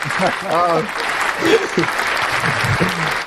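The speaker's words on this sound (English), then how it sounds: "Round of applause to Jordan and Heather." Applause for a couple named Jordan and Heather rises from a crowd, steady and fairly loud, with people talking and calling out over the clapping.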